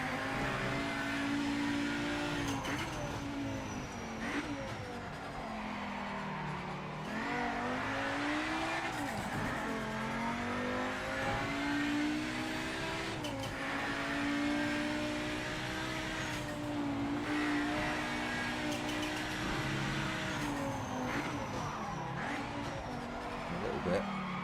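A race car in Project Motor Racing, running a low-downforce setup, revs and accelerates hard toward top speed with continuous loud engine drone, pitch sweeps through gear changes, and brief tire squeal under braking and cornering, with a voice talking over it.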